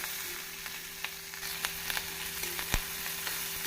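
Onions sizzle steadily in a pan with rock salt and curry leaves for a Tamil ivy gourd stir-fry, a soft continuous frying hiss with small pops and one stir clatter.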